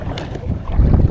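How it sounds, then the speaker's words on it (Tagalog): Strong wind buffets and roars over the microphone in heavy, gusting rumbles while kayak fishing on open water, with a watery, open-air feel and no voices. "Kasuging hangin."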